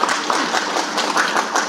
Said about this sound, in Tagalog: Palakpakan na to, maliko na to palakpak ang Ginoo nini